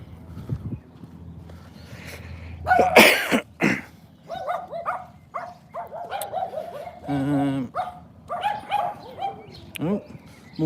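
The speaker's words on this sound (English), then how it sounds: "Oh, more noisy doggies." Several noisy dogs bark intermittently around a Russian village lane by old gates and a tiled mosaic fence, short yaps and barks mixed with someone talking and other background sounds.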